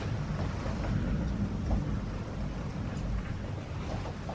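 A thunderstorm rolling in over Florida, heard as low continuous rumbling with a faint wash of rain, fairly quiet and steady with no talking.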